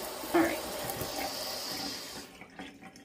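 Water from a tap or watering can runs steadily into a potted houseplant indoors, close and moderately loud, then cuts off near the end, leaving faint drips and rustling.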